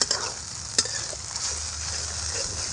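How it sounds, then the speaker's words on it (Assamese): Spices fry in a pan for a home-style local chicken curry, giving a steady, close sizzle with a few sharp ticks from stirring and no talk. "মছলাখিনি ভালকৈ ভাজি ল'ম তাৰপিছত মাংসখিনি দি দিম"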